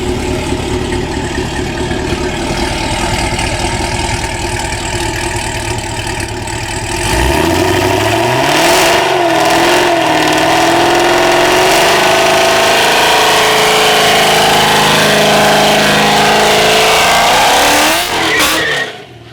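A race car idles with a rough, loping burble, then revs hard and accelerates away, engine note climbing and wavering through gear changes before cutting off near the end, loud and close with no talk.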